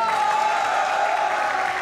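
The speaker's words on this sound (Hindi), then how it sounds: "तालियां बजाइए।" A studio audience claps steadily through the whole short stretch at a television comedy talk show, a dense, even wash of applause close up with no break.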